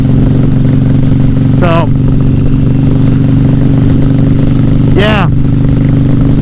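A Harley-Davidson Softail motorcycle's engine rumbles loud and steady with a deep throb while riding, and someone briefly talks over it.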